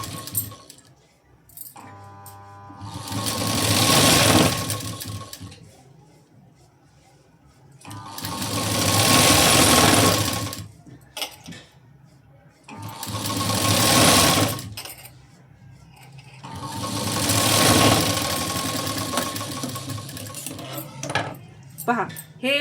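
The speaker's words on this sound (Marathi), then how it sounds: "आता इथे काटावर शिलाई देऊन घेऊ." A sewing machine stitches along the border of a sleeve in four loud, steady whirring bursts of rapid needle chatter, each several seconds long, separated by short pauses with fabric handling and small clicks.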